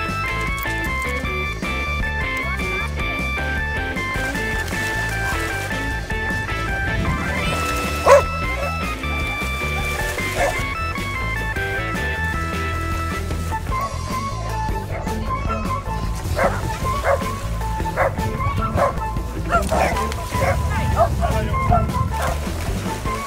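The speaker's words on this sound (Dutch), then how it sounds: "27 honden met hun baasjes gingen na het startschot op pad en de honden gingen heerlijk los" Dogs bark and yip during a charity dog walk and dive event at Millingen aan de Rijn, the barking scattered and mixed into busy outdoor noise and background music, with people talking throughout.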